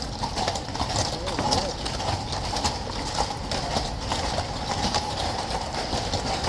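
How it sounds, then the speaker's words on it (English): Horse hooves clip-clop at Horse Guards in London, where a horse had a sudden moment of unrest near a crowd; the steady hoofbeats sit within continuous crowd noise and nearby talk. "Horse had a little moment there."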